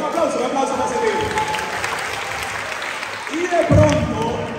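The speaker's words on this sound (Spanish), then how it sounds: "Un aplauso para ese tigre" Audience clapping at a youth church conference, a steady broadband patter running the whole time beneath someone talking, swelling toward the end.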